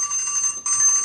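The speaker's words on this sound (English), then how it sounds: "Sorry, that's my alarm." An alarm rings with a bright, continuous high-pitched bell tone that briefly breaks, then resumes, loud and close with no talk.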